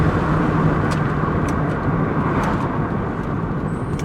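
A 1998 Pontiac Grand Prix GT engine drones steadily while the car accelerates, a continuous broad cabin rumble heard from inside with no speech.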